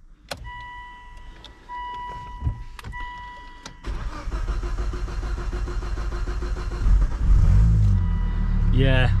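An ex-police Volvo T5 with 201,000 miles is started, the starter cranking and the engine catching into a loud, steady running roar, preceded by a few clicks and faint switch sounds.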